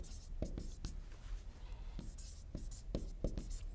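Pen scratching across paper, close and quiet, in short irregular strokes with small taps and pauses.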